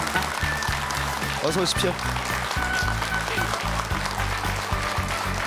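A Korean TV morning-show studio audience applauds to welcome a guest, dense continuous clapping throughout while a host speaks over it with a greeting.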